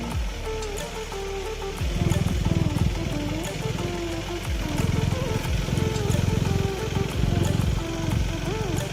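A KTM Duke 390 motorcycle runs in third gear at Eco Park, its hot engine giving a close, continuous drone that rises and falls with the throttle, while a voice talks over it.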